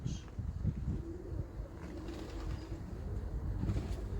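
Pigeons cooing faintly in a loft where crested inbred Ramses-line breeding pigeons are kept, low soft coos repeating in the background with a little mechanical noise.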